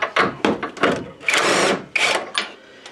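A frame bolt comes out of a 2008 Ford Fusion under a power tool, heard as close, loud bursts of whirring and ratcheting, several short pulses and then one longer run, with no talking.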